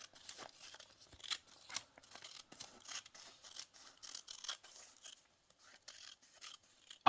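Scissors snip repeatedly at close range during crafting, a quick irregular series of sharp cuts with soft rustling of the material between them.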